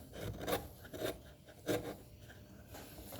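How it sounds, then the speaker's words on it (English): Sandpaper rubbed by hand over a wooden oil stone case in a school building and construction workshop gives faint, soft rasping strokes, with three stronger scrapes standing out against a low background. "This will just sand back. This is a sandpaper job now."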